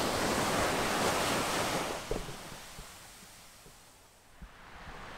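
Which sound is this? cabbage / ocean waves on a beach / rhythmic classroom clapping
ocean waves on a beach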